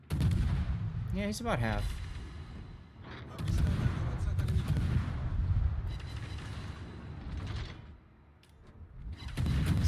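Naval gunfire in World of Warships around a tier 10 Italian destroyer, A. Regolo: heavy booming salvos and rumbling blasts come in repeated waves with brief lulls, and a voice talks briefly over the battle.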